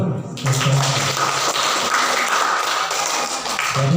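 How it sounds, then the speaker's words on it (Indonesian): A crowd claps and applauds at a village Islamic quiz competition, a dense steady patter of hands filling most of the moment, with a brief voice at the start and end. "Tepuk tangan dulu"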